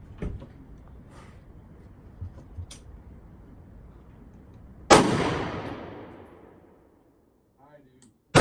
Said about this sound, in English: just shoot that golf ball again.